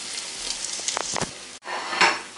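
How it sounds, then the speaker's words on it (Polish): Steady oil sizzle and crackle from a potato pancake frying in a pan over lower heat, with a few brief utensil clinks and a short pause near the end. "Należy naleśnik obrócić na drugą stronę i smażymy z drugiej strony."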